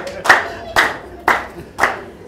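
Four separate, loud hand claps land at a steady slow rhythm, each with a short ringing tail, from the audience at a festive entertainment show with games and prizes.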